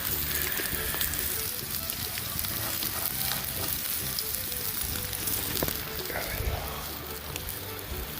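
Food sizzles and fries steadily in a pan over a campfire, a continuous crackling hiss with occasional pops, close and fairly loud throughout.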